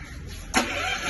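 A Bajaj 5 kW low-noise petrol portable generator starts abruptly, jumping from near quiet into a steady, broadband engine roar that holds at a constant level close by.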